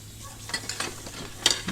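Dishes being washed in a household life-simulation video game, with soft clinks of plates and cutlery over a steady hiss of running water, a brighter clatter standing out near the end.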